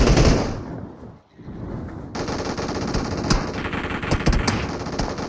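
Rapid automatic gunfire rattles in the mobile battle royale game PUBG Mobile, a dense burst that fades, then sustained bursts of shots with sharp individual cracks continuing loud and close, no talking over it.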